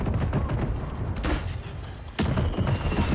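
Explosions and gunfire in the video game Call of Duty Warzone, with dense, loud blasts and sharp bursts of shots that keep going without a break.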